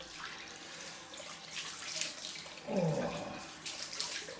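A bathroom tap runs for a cold rinse after a straight-razor shave with a shavette, a steady close hiss of water with a brief splash near the end and a short voiced exclamation.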